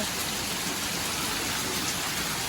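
Heavy rain pours down steadily during a storm, a dense, loud, unbroken hiss that fills the whole stretch with no talk.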